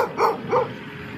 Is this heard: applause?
no